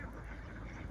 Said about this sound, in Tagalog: Dito, yung itik, ito yung mga brown, yung nangingitlog at ginagawa ng balot.